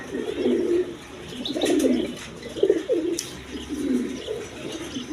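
Domestic and foreign coloured pigeons at a seller's loft coo in repeated low, throaty bursts, close by, with faint chirps and background noise.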